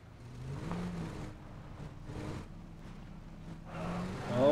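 Car driving and accelerating in the desert map of the video game PUBG, a steady engine whir and rumble that swells toward the end as it speeds up, with a voice briefly speaking over it.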